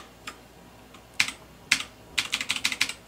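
Typing on an RK61 mechanical keyboard: a few scattered clacks followed by a quick run of crisp, evenly spaced keystrokes, close-up and loud, with no talking.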